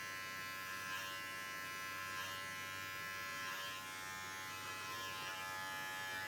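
Electric hair clippers fitted with a 1½ guard buzz steadily and close by while cutting a boy's hair at home, a continuous even hum with slight swells as the blades flick out through the hair.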